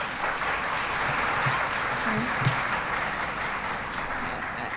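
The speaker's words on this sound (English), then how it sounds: "Please, another round of applause for him." A crowd applauds steadily, dense clapping filling the whole stretch at an even, fairly loud level.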